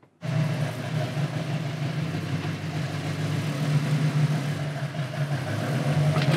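A Chevy G20 van fitted with an 8-litre V10 engine starts abruptly and rolls onto a scale, its deep, steady engine rumble holding at a loud idle-like drone throughout.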